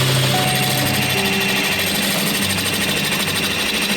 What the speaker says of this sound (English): Then it's just a matter of aligning the holes on the drill press and carefully cutting them out.